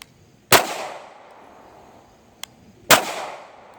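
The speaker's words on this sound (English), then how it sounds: "I'm going to shoot bottom right and see how we do." Two loud, close pistol shots from a Walther PPQ M2 fired at a target crack out a couple of seconds apart, each with a ringing decay, and a small metallic tick falls between them, with no talking.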